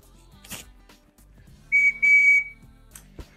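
A small whistle worn as a necklace gives two short, loud, shrill blasts close by, amid quiet rustling and handling noise.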